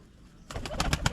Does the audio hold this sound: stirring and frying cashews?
no